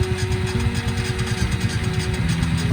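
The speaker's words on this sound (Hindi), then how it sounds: "चंदन की बाइक स्टार्ट हो गई है।" A motorcycle engine runs steadily just after starting, in cold 3-degree weather on E20 fuel, a close, continuous, even idle with rhythmic low pulsing and no talk.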